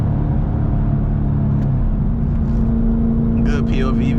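Camaro ZL1 with a manual gearbox cruising at a sunset drive, a steady low engine and road rumble heard from inside the cabin, with a voice talking briefly near the end.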